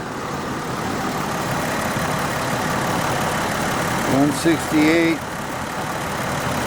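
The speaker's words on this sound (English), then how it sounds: "This thing is just not going to get hot idling." A Jaguar X-Type engine idles steadily with a fresh exhaust pipe and a slight misfire from worn plugs, a constant rumbling drone that continues while someone speaks briefly.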